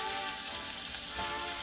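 Corned beef sizzles steadily in a hot pan as it heats through, a close, dense frying hiss that holds level throughout the short stretch.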